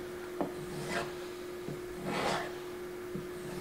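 A Benchmade 940 Osborne knife edge drawn across a strop, giving a few soft, separate rubbing swipes spaced about a second apart, close and quiet against a faint steady hum.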